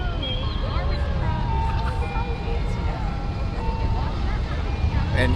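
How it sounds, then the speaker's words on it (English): A Gloucester refuse garbage truck rolls by in the town's Daffodil festival parade, its low engine rumble running steadily beneath crowd chatter and scattered high tones. "Gloucester refuse garbage truck is in the parade."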